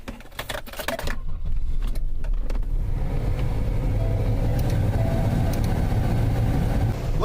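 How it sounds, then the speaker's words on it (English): A car engine starting and idling steadily, a low continuous rumble that follows some clicks and rattles at the start and runs on to the end of the clip. "we're just going to turn on the car, change the temperature,"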